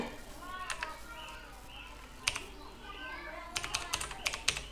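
Quick bursts of typing on a computer keyboard, a short flurry and then a longer run of clicky keystrokes, close by, with a voice talking over and between them.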